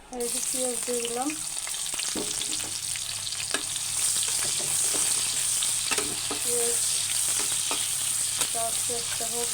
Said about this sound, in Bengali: পেঁয়াজটা হোক ভাজা।